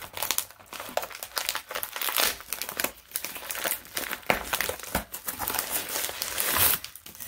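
Gift wrapping paper crinkles and tears as a birthday present is unwrapped, a near, continuous rustle of sharp crackles and rips lasting several seconds with no talking.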